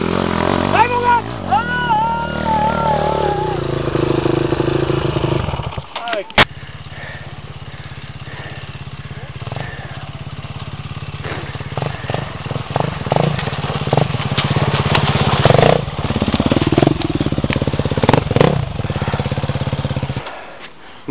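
A motorbike engine at a rodeo-style ride revs up loudly and close, rising and falling in bursts over a rough idle, with people shouting and talking around it.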